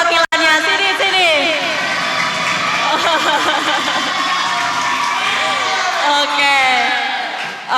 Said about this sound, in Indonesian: tepuk tangan dulu dong, ada perwakilannya